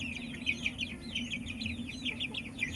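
Two-month-old chickens cluck and chirp close by in a rapid, continuous stream of short calls over a low steady hum.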